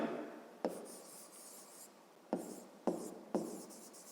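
Pen scratches on paper in short bursts of strokes with brief pauses, quiet and close, as an equation for a fifth-grade maths exercise is written by hand.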